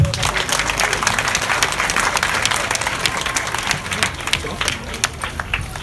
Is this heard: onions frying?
no